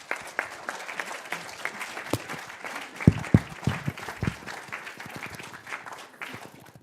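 A lecture audience gives warm applause to welcome the speaker Wulf Livingston, a dense, steady patter of many hands clapping close by and continuing for several seconds, with a few louder individual claps standing out.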